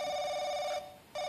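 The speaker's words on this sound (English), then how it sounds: "Is it thy phone calling me?" A telephone rings in The Crooked Man horror game, with one electronic ring-tone burst, a brief gap, then the ring starting again, clear against a quiet background.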